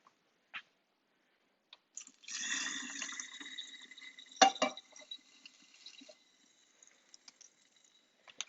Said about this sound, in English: so I'm going to pour this grease out